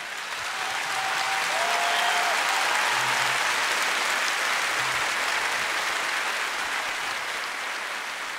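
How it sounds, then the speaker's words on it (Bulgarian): A large concert audience at a show in 2017 bursts into loud, sustained applause, a thick wash of clapping that swells and holds for several seconds, with faint crowd noise mixed in. "Искам да чуя вашите аплодисменти"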